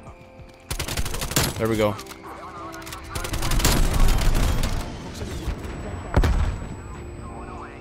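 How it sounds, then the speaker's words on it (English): Strafe-run scorestreak aircraft in Call of Duty Cold War rake the ground with several bursts of rapid, heavy gunfire and booming impacts. A player speaks briefly over the shooting. "Strafe run."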